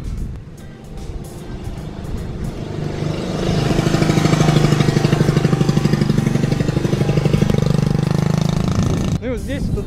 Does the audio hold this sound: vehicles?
yes